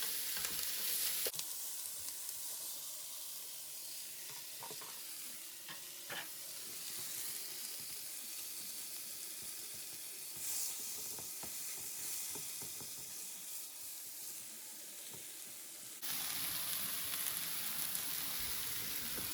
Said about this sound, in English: Oil splatter in here.